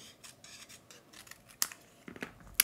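Scissors snipping through a paper craft pumpkin piece, cutting it in half: soft rustling paper followed by a few sharp, close snips near the end, with no talking.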